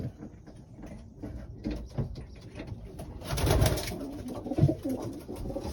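Pigeons coo in a loft, soft repeated low calls from several birds with rustling and a louder burst of movement midway, no talk.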